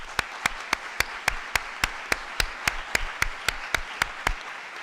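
Sharp, evenly spaced claps at a university conference on mental health, about a dozen distinct hand claps in a steady rhythm, fairly close and moderately loud, with no speech.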